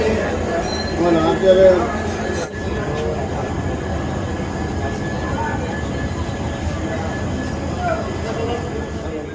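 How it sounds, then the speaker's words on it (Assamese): A steady rumble of a moving train fills the recording, rolling and droning continuously with faint squeals, while people talk quietly in the background. "এয়া ট্ৰেইনত উঠিলোঁ"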